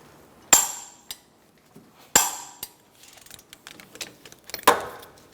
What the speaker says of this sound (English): We're going to torque our bracket bolts to 77 foot-pounds.